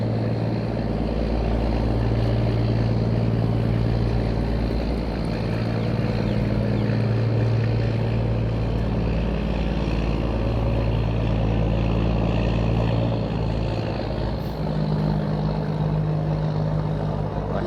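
A tugboat's engine drones steadily while it tows a cargo ship along a river past a whirlpool junction near Wat Phanan Choeng, a loud low throbbing hum with slowly shifting tones and no speech.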